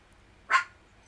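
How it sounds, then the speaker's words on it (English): One short, sharp bark from a dog, loud and close, standing alone against a quiet background. "Famous YouTube dog."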